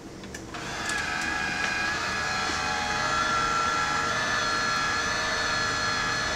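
An ice cream freezer machine starting up after the start button is pressed, a steady close mechanical hum and whir rising within the first second and then running evenly without pauses.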